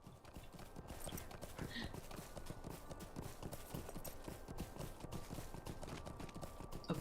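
A horse's hooves clip-clop steadily in the LOTRO video game, a quick, even rhythm of hoof strikes on the ground, continuous and fairly quiet throughout.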